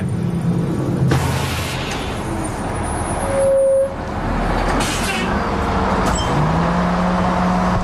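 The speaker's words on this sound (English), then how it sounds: "Today, a bus full of inmates pulls up at Corcoran State Prison" A prison bus carrying inmates pulls up at Corcoran State Prison in California, its engine rumbling with a brief hiss of air brakes and surrounding roadway noise, all at moderate volume.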